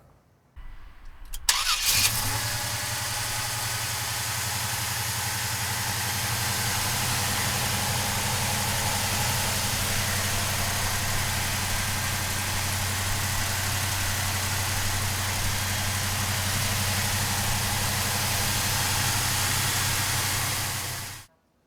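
A 1969 Pontiac GTO cranks briefly, catches, and settles into a loud, steady, rumbling idle that runs uninterrupted for nearly twenty seconds before cutting off.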